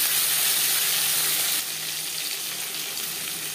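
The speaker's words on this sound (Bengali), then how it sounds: "জিরে তেজপাতা ভেজে নেওয়ার পর দিয়ে দেবো টমেটো।" Whole cumin seeds and bay leaves fry in hot oil before tomatoes go in, a steady bright sizzle that drops a little in level partway through, with no talk.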